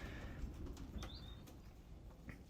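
Pigeons shuffling and fluttering inside a loft where weaning young birds are housed, with brief wing flaps and a soft high chirp over a steady low rumble of ambient noise.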